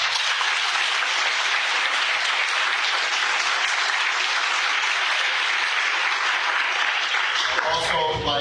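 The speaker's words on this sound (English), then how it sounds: "Please, let's give them a round of applause" Audience applauding at a medical school white coat ceremony, sustained dense clapping from a large crowd, loud and even, ending as a voice begins speaking at the close.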